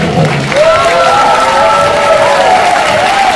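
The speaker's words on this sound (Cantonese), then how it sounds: "我哋俾你嘅掌聲咧" A concert audience claps continuously in a steady wash of applause while a voice carries on over it.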